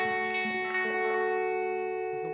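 A guitar runs through a Line 6 DL4 MKII set to a ducking reverb, producing a sustained, ringing chord with a lush reverb wash that holds steady throughout.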